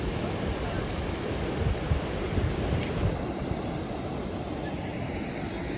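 Steady, full rushing of a waterfall and river fills the scene without pause, a broad roar mixed with gusty wind buffeting the microphone.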